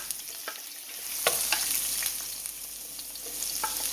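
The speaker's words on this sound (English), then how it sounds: "So I'm going to add my scallion to it, my onions" Scallions and onions sauté in a tablespoon of virgin olive oil, a steady close sizzle punctuated by scattered crackles and light stirring scrapes, with no one talking.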